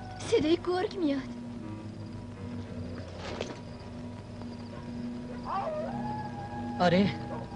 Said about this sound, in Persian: صدای گرگ میاد.